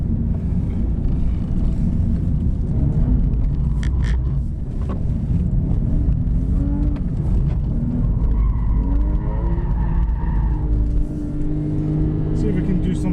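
A car engine droning loud and steady in third gear while the tyres squeal and slide through corners, with shifting engine tones, and someone talking over it.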